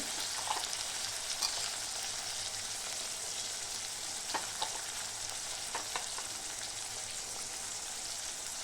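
Tomatoes frying in oil with red chili powder, turmeric and salt, giving a continuous dense crackling sizzle throughout, with a few soft stirring scrapes and no voices.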